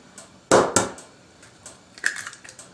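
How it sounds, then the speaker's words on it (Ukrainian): Two eggs are cracked into a bowl for kefir apple pancake batter, giving two sharp, close cracks in quick succession, then a quieter crack with a wet drop a second later, amid light kitchen clatter. "Спочатку в миску вбиваємо яйця."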